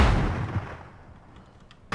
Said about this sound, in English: Ooh, they're sniping from outside.